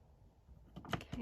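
Scissors snip through lace trim for a Christmas folio, a few crisp close cuts arriving after a quiet start.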